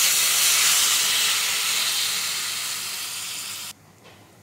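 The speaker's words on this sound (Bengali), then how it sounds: "এবার জল দিয়ে দেব।" Water hits a hot pan of khamalu, wild yam, with a loud, steady steamy hiss that slowly fades, then cuts off abruptly near the end, with no voices.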